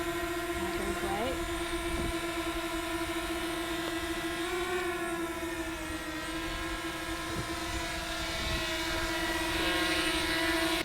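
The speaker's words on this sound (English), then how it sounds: "Otto the Czech pilot has actually checked out Cindy's flight and has decided to award her wings as a solo drone pilot." A small camera drone hovers overhead at a campsite, its propellers giving a steady high whine with a slight pitch wobble, loud and constant while people talk nearby.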